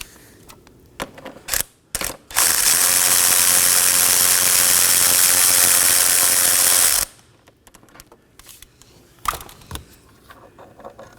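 A hand ratchet backs out the 10mm bolt on the transmission oil cooler bracket of a 2018-2024 Chevrolet Equinox 1.5L, giving a few clicks and then a rapid continuous buzzing run of about five seconds, close up.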